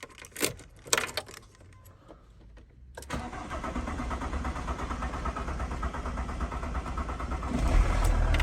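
A VW T4 diesel van has its key jangled and turned, the engine catching after a few seconds and settling into a steady close rattling idle that swells slightly near the end.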